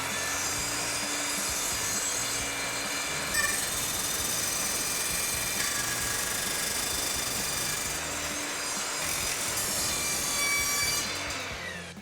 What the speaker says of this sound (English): we can back the saw up and approach from this direction and cut through the floors